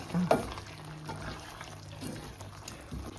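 Plantain and jackfruit seed curry stirred in a pan, with a soft spoon scrape and wet shuffling near the start, then faint quiet stirring and low sizzle for the rest.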